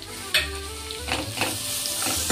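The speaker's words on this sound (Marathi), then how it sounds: "हे बघा, फोडणी झाल्यावर आपण टोमॅटो टाकतोय।" Steady, loud sizzling of tomatoes frying in hot tempering oil, with a few sharp spatters and crackles popping through the continuous hiss.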